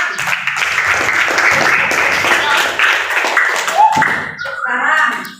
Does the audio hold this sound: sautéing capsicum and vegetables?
no